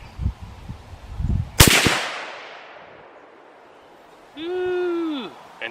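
A single loud, sharp rifle shot from a CVA Scout single-shot rifle chambered in .45-70 Government at an outdoor range, ringing out with a long decaying echo, followed by a whistling tone.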